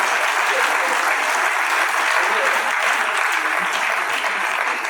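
A conference audience applauds continuously, producing a loud, dense clapping that fills the room without pause.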